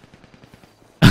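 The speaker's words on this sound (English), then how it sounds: "I think they're just shooting in the air." Gunfire in the video game GTA during a role-play session: a faint run of rapid popping shots fired into the air, followed by one sudden loud blast at the end.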